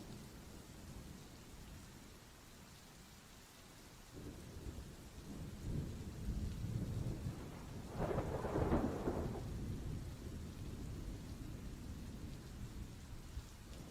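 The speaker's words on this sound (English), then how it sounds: "Tell me why it's hailing." A spring hailstorm with a steady, dense patter of hail and rain, joined midway by a deep rolling rumble of thunder that swells and fades. No voices.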